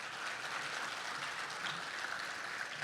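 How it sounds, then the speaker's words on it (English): Soft, even applause from an audience honouring award winners at a post-lunch gathering, a faint continuous wash of clapping heard from a distance. "Give them a nice big round of applause once again."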